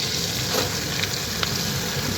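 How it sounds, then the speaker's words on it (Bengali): Green chilies frying in a pan as bottle gourd pieces go in, with a constant close crackling sizzle throughout. "কাঁচা লঙ্কা ভাজা ভাজা করি তারপর চিলি চিলি করে ফুটছে ওই দেখো দিয়ে দিচ্ছি লাউগুলো"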